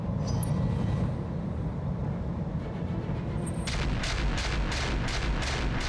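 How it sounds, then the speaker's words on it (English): Incoming mortar fire in the BattleTech video game: a steady, loud low rumble of explosions and gunfire, with a rhythmic series of sharp repeated blasts in the last two seconds. "More incoming mortars."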